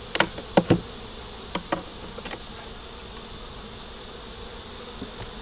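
Swarm of honey bees buzzing over an opened beehive box, a continuous close high drone with a few sharp wooden knocks and taps from working the boxes early on.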